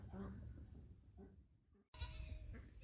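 Goats bleat in a barnyard at evening feeding time while hay is tossed to them. Short, fairly close bleats mix with a person talking, followed by a sudden rustling burst near the end.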